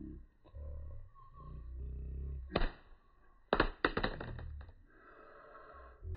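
A Galaxy Z Fold 5 in a Ghostek Atomic Slim case drops from a pocket onto a hard surface, giving a sharp thunk followed by a few quick clattering impacts as it settles, heard close up after a low rustle of handling.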